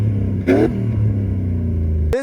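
A Mercedes 400e W124 with its 4.2-liter M119 V8 gives a brief rev that rises and falls over a steady low idle rumble, heard close up and without talk.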